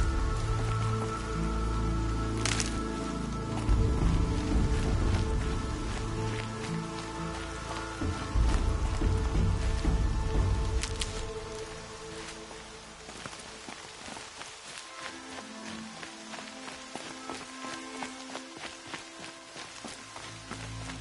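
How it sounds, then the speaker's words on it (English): Rain falls in the video game Horizon Zero Dawn, a steady pattering hiss over a low rumble and occasional sharp ticks, louder at first and easing to a thinner patter later. "Rain's not so bad."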